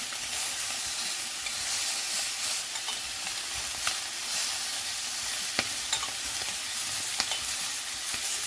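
Steady, intense sizzling of chicken searing in a pot over the highest heat, with occasional sharp pops and crackles, close and continuous.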